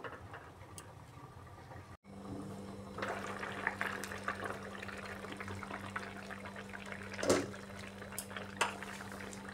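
A ridge gourd and egg curry with potatoes simmers under a lid, a soft, steady bubbling with a low hum, faint and close, broken by one brief clink of a pot.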